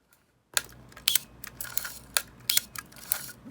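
A 1958 Olympus Wide II, a fully mechanical 35mm film camera, being operated up close: a run of crisp mechanical clicks and ratcheting snaps in an uneven rhythm after a moment of silence.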